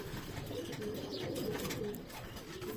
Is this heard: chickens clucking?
no